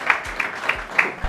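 Scattered hand claps from an audience at a French startup pitch competition awards ceremony, a handful of sharp claps spaced across the moment rather than a full sustained ovation.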